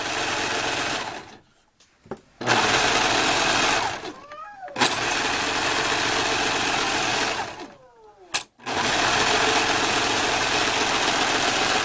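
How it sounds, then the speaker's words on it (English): A serger sewing machine runs loud and steady, stitching fabric at high speed, stopping briefly twice before whirring on again. "you could do a straight stitch and then a zigzag on a sewing machine, but sergers are fast"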